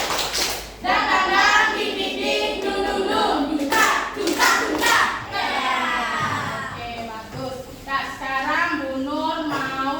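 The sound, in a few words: class rhythmic clapping, tepuk semangat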